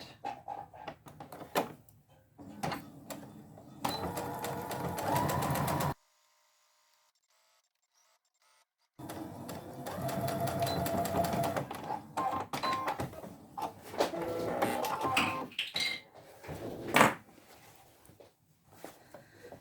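A sewing machine stitches along the curved edge of fabric for a peg apron, starting and finishing with a back stitch; bursts of rapid mechanical whirring and clatter run close and fairly loud, broken by a few seconds of silence midway.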